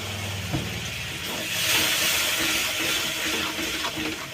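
Kashmiri red chilli spice paste in a hot pan hisses and sizzles steadily as water is added, a close, continuous steamy fizz swelling slightly midway.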